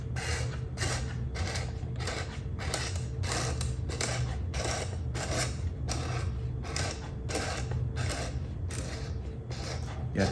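A small hand crank drawing photographic film onto a developing reel, heard up close as a steady series of rhythmic ratcheting clicks and creaks.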